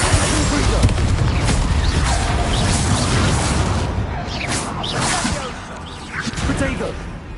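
Bombarda and Confringo spells cast in a cavern in Hogwarts Legacy, heard as a dense run of whooshes and booming impacts, loud and continuous, with a voice calling out throughout.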